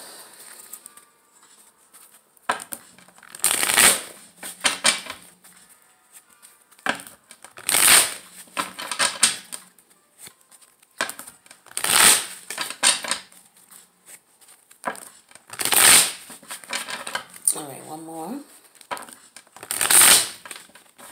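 Tarot cards shuffled in several separate bursts of riffling and patter, each lasting a second or two with short pauses between, close and fairly quiet, no talking.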